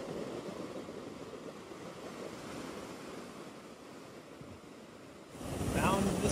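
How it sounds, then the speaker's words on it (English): Ocean surf breaking along the Canary Islands coast in the Atlantic, a steady loud wash of waves with wind buffeting the microphone, swelling louder toward the end. "Found the surf."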